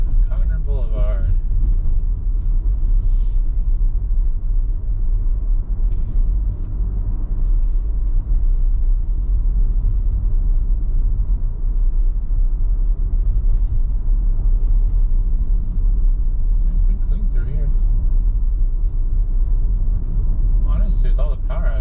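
Steady low rumble of a car's engine and road noise from inside while driving through Lincoln, Nebraska streets after a severe thunderstorm, continuous and close throughout, with a few brief higher sounds.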